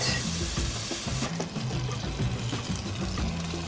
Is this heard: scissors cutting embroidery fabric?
no